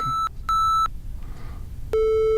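Three short, pure electronic tones with buzzy odd-order harmonic overtones, two at the same pitch followed by a lower one, separated by brief gaps.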